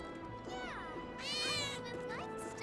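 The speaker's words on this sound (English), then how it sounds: "There's a cat." A cat meows in a video game, several sliding, whiny meows across a couple of seconds over steady game music, with a louder drawn-out cry in the middle.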